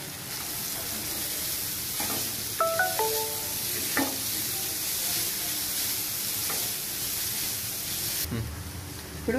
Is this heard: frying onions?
yes